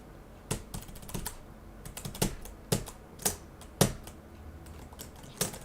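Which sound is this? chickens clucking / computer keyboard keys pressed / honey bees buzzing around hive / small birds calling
computer keyboard keys pressed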